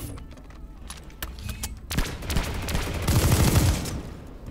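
Rapid bursts of battle rifle fire from a new Planetside 2 weapon crack out on a test server, sparse shots at first, then a dense, loud stretch of overlapping gunfire and impacts in the second half.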